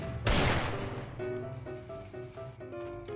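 A single heavy shotgun blast bursts out loudly in the Free Fire game, followed by tonal in-game sounds and faint background noise.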